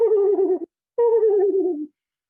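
A human voice imitates the whinny call of a screech owl in two descending, horse-like quavering hoots separated by a short pause, clear and close with no other sounds.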